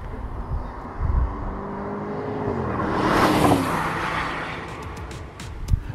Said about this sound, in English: we have the 4-liter twin turbo V8 under the hood. It is just glorious.